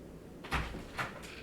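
A door is opened at home to let a dog named Boomer inside, giving two soft knocking thumps about half a second apart, then a faint third, fairly close against a quiet room.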